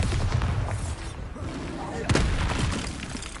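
Bombarda explosion spell blasts in Hogwarts Legacy combat, loud and dense, with a sharp burst about two-thirds through over constant rumbling battle noise.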